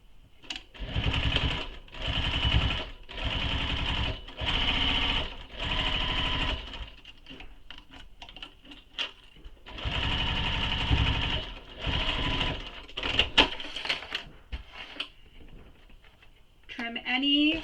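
A sewing machine topstitches a seam on a handmade convertible bag, running in several bursts of rapid, steady stitching separated by short pauses, loud and close, with a few clicks and handling sounds between runs.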